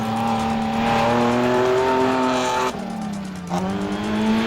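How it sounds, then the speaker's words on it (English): A bakkie pickup truck racing in an off-road event, its engine droning loud and steady then dropping pitch abruptly as it passes or shifts, with a brief squeal-like edge. "E69, Frans van der Walt and Gerry Prinsloo in their Bakkie out on the road"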